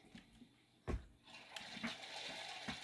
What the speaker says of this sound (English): I'm making it constantly flush.